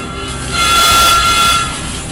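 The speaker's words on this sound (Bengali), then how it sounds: "এদিকে তিনি তাকিয়ে দেখেন ট্রেনটি স্টেশনে তখন ঢুকছে।" An express train entering a railway station sounds a loud, sustained horn blast over the deep rumble of the rolling train, swelling in the middle and easing off toward the end.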